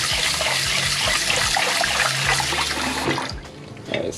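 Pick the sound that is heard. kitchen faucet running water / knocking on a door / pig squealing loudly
kitchen faucet running water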